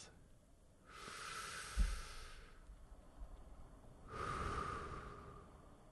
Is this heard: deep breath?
yes